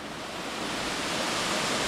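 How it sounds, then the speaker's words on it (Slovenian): Pešturа waterfall in Albania roaring steadily, a dense unbroken rush of falling water heard up close with no voices. "Smo pri drugem slapu"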